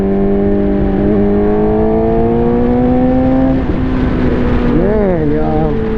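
A Suzuki GSX-R motorcycle cruising steadily in third gear, its engine a loud, close, sustained drone with wind noise, and the pitch dipping and wavering briefly near the end.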